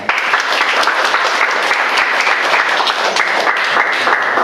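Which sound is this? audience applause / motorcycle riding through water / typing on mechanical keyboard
audience applause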